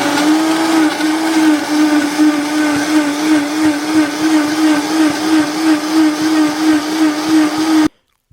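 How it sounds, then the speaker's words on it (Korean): A blender grinds cabbage, apple and carrot into juice with a loud, steady whirring roar that holds for about eight seconds and then cuts off abruptly. No voices. "양배추, 사과, 당근을 모두 넣었으면 믹서기로 갈아주시면 되세요"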